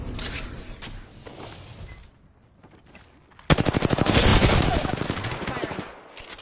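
Rapid automatic gunfire erupts in the Apex Legends video game on the World's Edge map, a loud, fast, steady burst that follows a stretch of quieter in-game action.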